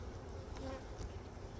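Honey bees buzz steadily around an open hive during an inspection, a close, continuous droning hum with no talking.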